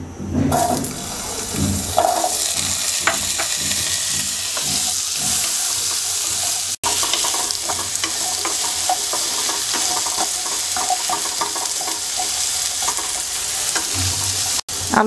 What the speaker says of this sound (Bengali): এবার আলুগুলোকে হালকা ভেজে নিচ্ছি